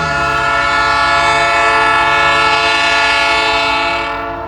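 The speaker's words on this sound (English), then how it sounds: "This is going to be a record-setting grain train for the year." A long grain train passes close at dusk while its horn blares in one sustained, loud chord over the rumble of the cars, fading slightly at the end.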